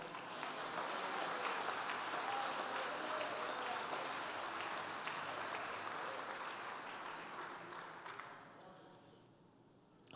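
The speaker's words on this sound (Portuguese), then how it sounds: "aplauda o Senhor Jesus." A church congregation applauds during a Portuguese-language sermon, with dense sustained clapping that gradually thins and fades out near the end.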